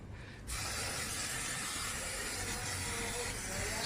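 Brake cleaner sprayed onto a car wheel while cleaning it down during suspension work, a steady broadband hiss starting after a brief quieter moment and running continuously at close range with no talk.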